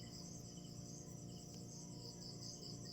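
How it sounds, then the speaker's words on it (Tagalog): Crickets chirp at night in a steady, dense, continuous trill, faint and distant, with no other sounds standing out. "Langas ang kuliglig no."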